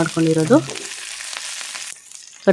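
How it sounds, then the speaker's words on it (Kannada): Mustard seeds and dried chilies fry in hot oil in a pan, giving a soft, steady sizzle. A voice is heard briefly at the start, and a sharp clatter comes at the very end. "ಸ್ವಲ್ಪ ಸಾಸಿವೆ, ಒಣಮೆಣಸು 1-2 ಹಾಕಿ ಫ್ರೈ ಮಾಡ್ಕೊಳ್ಳಿ."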